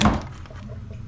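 A coolant hose clip on a 2014 Mustang GT engine pops off with one short, dull snap at the start, followed by quiet handling noise.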